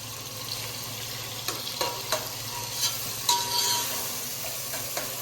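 Mutton pieces for Mysore-style mutton pulao frying in a pan with steady sizzling under repeated scraping stirs, the spoon strokes coming every second or so, close and fairly loud.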